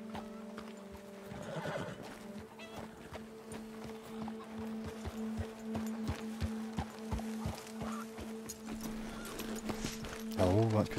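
Horse hooves clip-clopping at a walking pace in Red Dead Redemption 2, a steady string of soft hoof strikes with a steady hum beneath and a whinny near the end.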